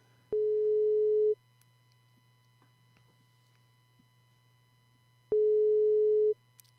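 A Skype call ringing tone sounds twice, each a steady electronic tone about a second long, with long quiet gaps and a faint low hum between rings.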